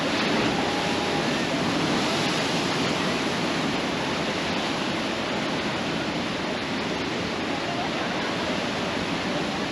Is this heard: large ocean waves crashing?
yes